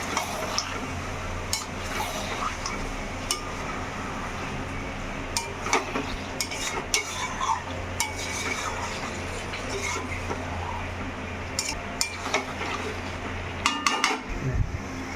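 Mutton being stirred and sautéed in a pot: a metal spoon scrapes and clinks against the pot in irregular knocks over a low, continuous cooking sizzle, with no voices.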